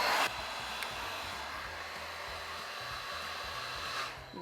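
A cheap Dyson Airwrap dupe hair dryer blows steadily with a weak, even airy whoosh, close to the microphone, with no voices.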